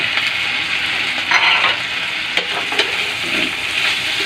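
Sisig tofu is stirred in a sizzling frying pan, a steady close fry hiss with occasional spatula scrapes and knocks against the pan.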